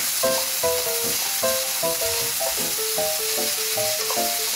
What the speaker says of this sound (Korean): 당근, 양파를 넣고 소금을 한 꼬집 넣은 후 계속 볶아주세요